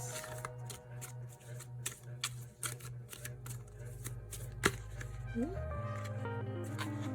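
Soft, quick ticking and flicking of cards being shuffled close up, over a low steady hum, with a brief tonal chime near the end.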